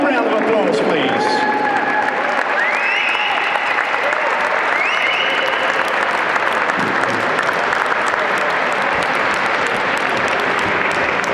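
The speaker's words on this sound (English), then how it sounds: "Give them a warm round of applause, please." Sustained loud applause from an audience at a football club's end-of-season presentation evening, steady dense clapping filling the whole stretch with a few voices mixed in.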